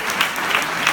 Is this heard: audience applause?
yes